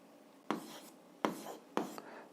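Chalk or marker writing an algebra equation on a classroom board, three short distinct strokes with soft scratchy trailing, close and fairly quiet, no talk.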